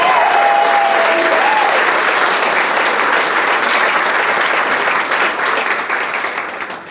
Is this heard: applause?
yes